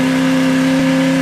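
Small-block 377 V8 engine held at a high, steady rev, a loud, close buzzing drone with a strong constant pitch that cuts off sharply after about a second.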